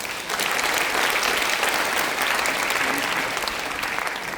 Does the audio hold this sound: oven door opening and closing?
no